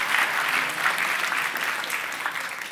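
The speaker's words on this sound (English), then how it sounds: "Can you give Andy a big round of applause for helping me with that demo?" An audience at a talk on particle accelerators claps enthusiastically in sustained applause after a demo, dense and steady throughout.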